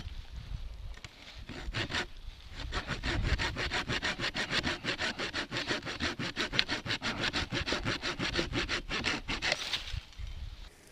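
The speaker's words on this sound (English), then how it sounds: "This is the saw mode on the back of it." A Fiskars 18-inch billhook used in saw mode cuts through wood with a fast, regular run of back-and-forth rasping strokes, close and steady for about ten seconds, without speech.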